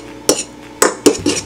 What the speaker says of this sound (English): And then just stir it right up